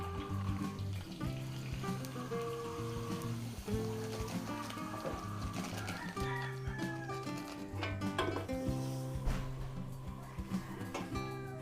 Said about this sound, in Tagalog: Gawa po muna tayo ng aswete oil.